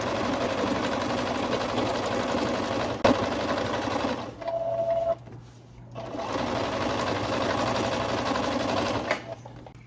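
A sewing machine stitches a seam across a pleated skirt in a steady, continuous whir, with a short pause partway through before it resumes.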